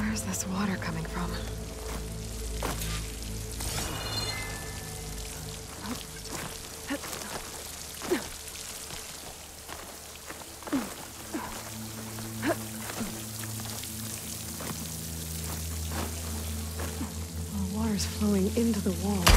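Rushing waterfall water in the video game Horizon Forbidden West, a steady broad roar with scattered splashes and drips that continues throughout.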